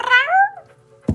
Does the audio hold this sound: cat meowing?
yes